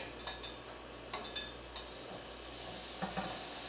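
Butter heats in a very hot pan before fish is seared, producing a soft steady sizzle and hiss with a few light clinks and stirring taps scattered through it.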